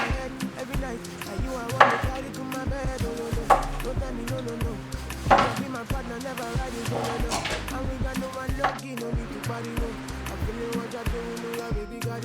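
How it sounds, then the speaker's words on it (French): Knife slicing a vegetable finely into rounds on a board while preparing chicken with small vegetables, repeated soft chops in an irregular rhythm under background music-like tones, fairly close. "le découper en rondelles. Finement"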